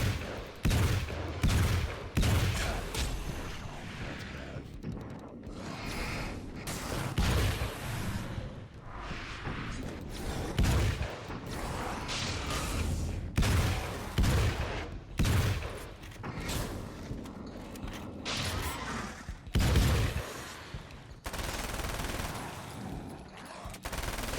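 Rapid gunfire from the video game Alan Wake's American Nightmare, loud bursts of shots and repeated volleys hammering through a dense, noisy battle soundscape, with a few sharp swooshes mixed in and no talking.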